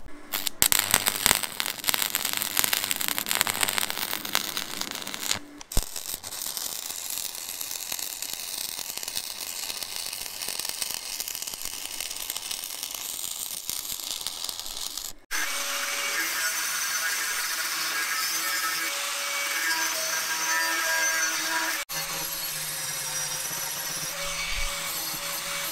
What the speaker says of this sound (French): Et donc il n'y a plus qu'à venir à la souder à la platine comme ça.